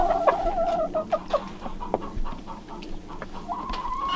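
Icelandic chickens feeding on clumps of sprouts in a winter coop, with a run of close, clear clucks and drawn-out tonal calls, interspersed with sharp pecking taps.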